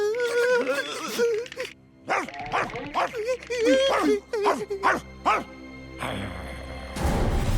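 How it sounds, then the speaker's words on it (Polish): A cartoon dog barks in a series of short yips and bow-wows mixed with whimpering, interspersed with animated voices talking, followed by a burst of noisy sound at the end. "Jeżeli nie szczekałeś ty, to kto?"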